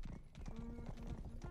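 Horse hooves clip-clop in a quick, steady rhythm of close, hollow knocks in the game Rustler, with a sustained tone and background game sounds mixed in.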